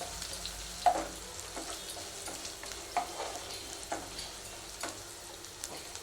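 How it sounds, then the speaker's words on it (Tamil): Onions frying in a pan for a broad beans stir-fry make a moderate steady sizzle, punctuated by a few soft clicks and stirring taps, with no talking. "ஆனியன் ஃப்ரை ஆயிடுச்சு."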